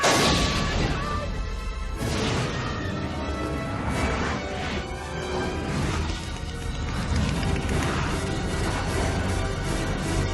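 A loud, roaring blast surges and rumbles continuously with crashing bursts and whooshing swells, a rocket igniting in a Toy Story film scene amid chaotic action noise.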